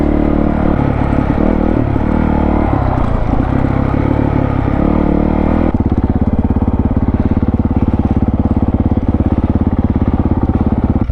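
Dirt bike engine, CRF450L or similar trail motorcycle, revving hard with a whiskey throttle, loud and close: irregular surging revs at first, then a sudden shift into a sustained rapid, rattling high-rev drone.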